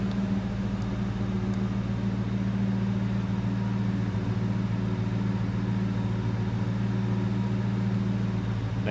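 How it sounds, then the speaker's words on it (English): Steady, deep idling exhaust rumble from a 2001 Ford Mustang Bullitt, heard up close and continuous for the whole stretch with no voices over it. "Nice deep throaty exhaust note."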